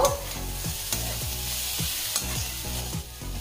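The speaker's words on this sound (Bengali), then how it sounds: "এখন দিয়ে দিচ্ছি হাতে মেখে রাখা ডালের এই মিশ্রণটা। এবারে সব কিছু ভালোভাবে ভেজে নেব।" Hand-mixed masoor dal mixture frying in oil with green chilli in a pan over a low-to-medium gas flame, a steady sizzle with repeated scraping stirs in a regular rhythm, close and fairly loud, no talking.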